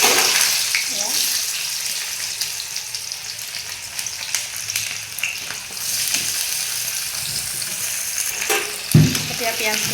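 Chopped onions sizzle and crackle in smoking-hot mustard oil while being stirred in a pan for an Assamese pork belly dish, a steady loud frying hiss with scraping stirs throughout and a brief louder clatter near the end.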